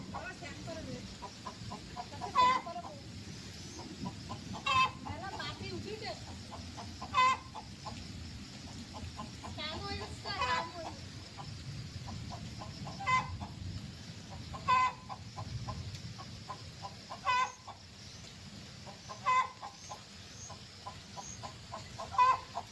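A chicken clucks repeatedly at a rural family home with jungle behind the house, short sharp calls recurring every couple of seconds at moderate distance over quiet outdoor background and occasional voices.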